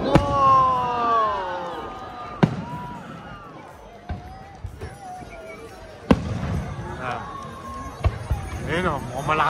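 Fourth of July fireworks in Canada exploding with sharp isolated bangs amid crackling, with people talking and exclaiming excitedly throughout.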